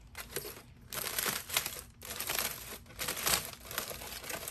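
Wrapped epoxy tumbler being unwrapped, close crinkling and rustling of wrapping material in several bursts with short pauses between.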